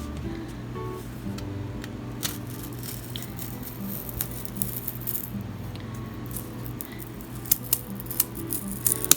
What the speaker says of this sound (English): Now I'm going to get out my X-Acto knife, and I'm going to cut the shape out.